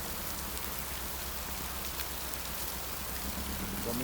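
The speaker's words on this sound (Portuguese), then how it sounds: "Olha como é que tá a chuva aqui" Heavy rain pouring down in a city street, a loud steady hiss and patter of water on surfaces filling the whole scene, with a low rumble underneath.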